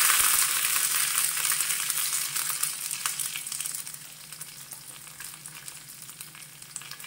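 Mustard seeds, urad dal and halved black peppercorns fry in ghee for uppumavu, a bright, dense crackling sizzle with scattered pops that starts loud and gradually settles softer over several seconds, with no talking.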